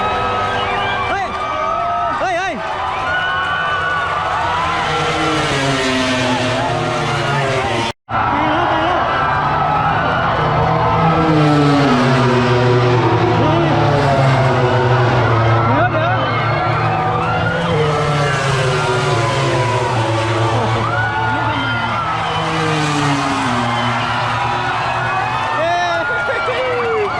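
MotoGP racing motorcycles screaming past on the final lap of a world championship race, engines rising and falling in pitch as bikes pass one after another, loud and continuous with crowd noise and an excited commentator talking throughout.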